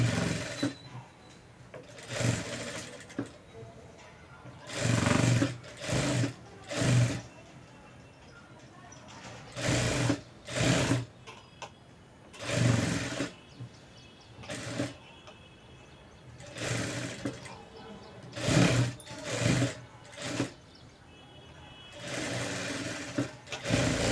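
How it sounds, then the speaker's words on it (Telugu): A sewing machine stitches a baby frock in repeated short bursts of fast mechanical whirring, each run lasting a second or two, separated by quiet pauses, close and moderately loud. "చూడండి నేను ఎలా స్టిచ్ చేస్తానో చూసేయండి"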